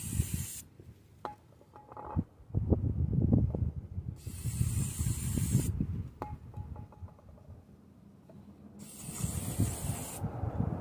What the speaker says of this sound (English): Sprayed 5 coats of lacquer.